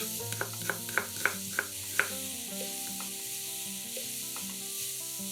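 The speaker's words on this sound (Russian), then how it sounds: "В сковороду к шампиньонам наливаем еще немного растительного масла. Кладем нарезанный лук. Все обжариваем еще 2-3 минуты." Sliced champignon mushrooms and onion fry in vegetable oil in a skillet with a steady, hissing sizzle, and a utensil taps the pan several times early on.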